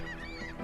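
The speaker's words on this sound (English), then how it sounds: "You can hear the birds in the background." Birds give a short burst of honking, goose-like calls in a quiet river valley, heard alone and fairly close.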